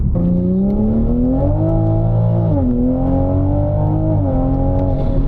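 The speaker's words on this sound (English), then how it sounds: "starting with spirited driving in a Supra" Toyota Supra engine with a Tomei exhaust revving during spirited driving, a loud sustained droning howl that climbs in pitch, dips with shifts and rises again, heard from close inside the car.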